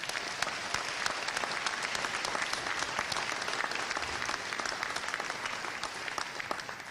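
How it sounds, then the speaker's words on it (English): Steady applause for sailors' families from a large crowd at a Navy boot camp graduation at Great Lakes, Illinois, with individual claps standing out in a dense, sustained wash. "I want another round of applause for the families"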